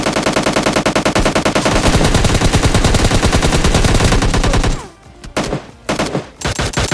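Heavy automatic gunfire in PUBG Mobile Lite, loud rapid bursts from many directions merging into a continuous barrage, then breaking into scattered shots and short volleys after a brief lull.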